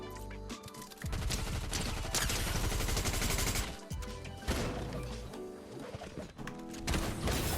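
Gunfire in the video game Fortnite, loud rattling bursts of automatic shots and impacts coming in several dense volleys with short gaps between them.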